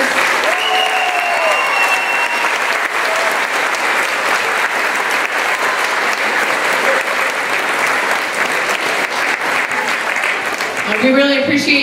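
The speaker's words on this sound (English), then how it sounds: "And another round of applause for all of our chorus members." A school concert crowd claps for the chorus members, a sustained, even wash of loud applause that holds steady throughout and closes with a few voices.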